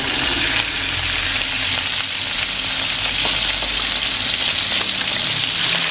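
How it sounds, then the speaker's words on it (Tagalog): Meat fries in a hot pan in a home kitchen, a loud continuous sizzle and crackle with small pops scattered through, close up and with no voices. "ipiprito lang po natin na kaunti yung ating karne"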